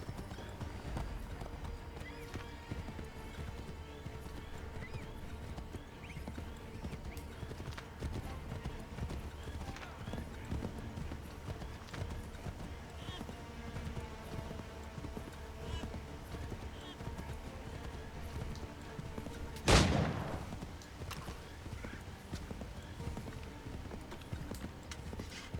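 Horses gallop in Assassin's Creed III with a steady, fairly quiet clip-clop of hooves throughout, and a single loud, sharp burst about three-quarters of the way through.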